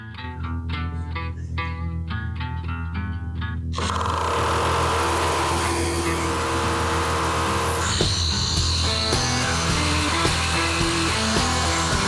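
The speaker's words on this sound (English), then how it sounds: "Make sure you have it on hammer and drill." Hammer drill boring through plywood while building a toe-kick platform for kitchen base cabinets, a loud continuous whine and grinding that starts abruptly partway through and runs steadily to the end.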